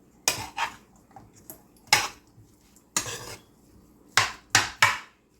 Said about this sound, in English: Let's get this stirred together.